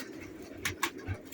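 A Rampuri pigeon of the khadi colony type gives a couple of soft, brief coos and calls, quiet and close, with faint low rustling between them.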